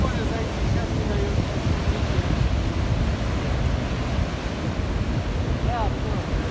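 Constant surf from the Black Sea breaks along the Anapa shore at Pionersky Prospekt in early morning, a loud even roar with wind rumble and a single faint chirp near the end.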